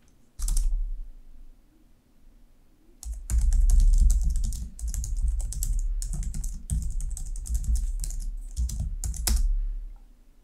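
Rapid clattering keystrokes on a computer keyboard while writing code, with a quiet pause after a short opening burst and then a dense, continuous run of typing that sounds close and clear, with no talk.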